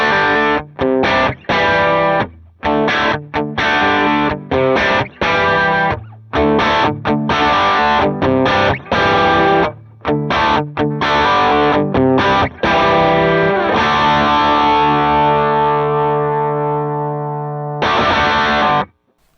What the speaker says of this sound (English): this kind of demonstrates what a colored boost can do to the sound and how it changes it